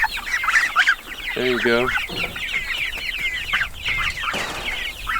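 Several chickens cluck and chatter nearby in busy, overlapping bursts, with one louder rising squawk standing out partway through. A person speaks briefly over the flock.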